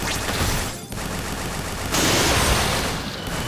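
Shooting in the video game Ni no Kuni 2: Revenant Kingdom, a dense, continuous burst of rapid gunfire effects that swells louder partway through, layered over busy game noise with no talking.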